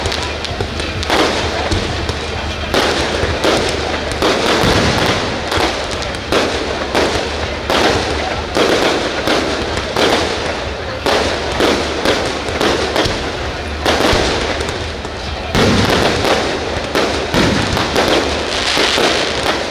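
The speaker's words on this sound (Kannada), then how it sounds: "ಸುಮಾರು 2 ತಾಸು ಪಟಾಕಿ ಸಿಡಿಸಲಾಗುತ್ತದೆ" Firecrackers and fireworks burst densely and loudly at the Polali temple festival in Mangalore, a continuous crackling barrage with thumps and pops for the whole stretch.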